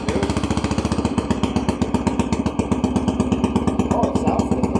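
A Yamaha TTR 125 dirt bike, fitted with a swapped carburetor and uncorked, runs with its choke off, a loud, close, rapid, pulsing engine beat held steady, with a voice speaking over it.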